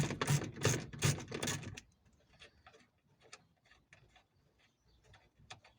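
Bolts being undone on a VW Golf MK4 door: a burst of fast ratcheting clicks from a hand tool, then quieter scattered metallic ticks and clinks.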